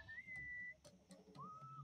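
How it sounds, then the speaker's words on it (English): A single person whistles two sustained, clear notes with a short gap between them, fairly faint against soft background noise. "What is that enchanting whistling sound?"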